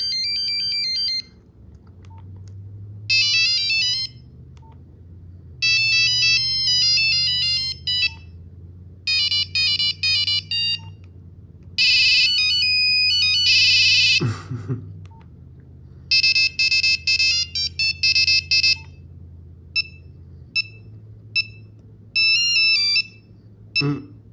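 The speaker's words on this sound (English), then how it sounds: "quite a few ringtones on here" Polyphonic ringtones from a Nokia 1260 mobile phone play one after another in short bursts of bright beeping melodies, separated by brief pauses, loud and close over a low background hum.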